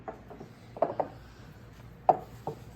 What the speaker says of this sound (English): Let's get this dough kneaded.